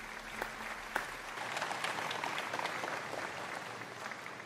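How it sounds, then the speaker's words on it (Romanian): Dense, steady audience applause for a swimmer at a public gathering by a garden and building, a continuous wash of many hands clapping at even loudness from start to end. "haideți să-l aplaudăm!"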